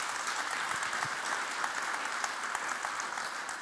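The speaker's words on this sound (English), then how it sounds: "Applause." Steady applause from a symposium audience on electric flying and charging at the close of a speech, a dense, even wash of many hands clapping at constant loudness throughout.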